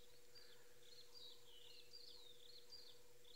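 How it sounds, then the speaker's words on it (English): A long-billed crombec sings a series of thin, high chirping phrases at dawn in quiet African bush with no traffic, faint and distant over a low steady hum. "You can hear the long-billed crombeck."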